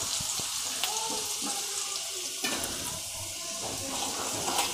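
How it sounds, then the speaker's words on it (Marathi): Garlic and salt roast in hot oil in a pan for amla pickle. A continuous close sizzle and crackle comes with occasional stirring clinks, and no one talks. "मीठ पण भाजून घ्यायचं आणि लसूण पण कलर बदलेपर्यंत"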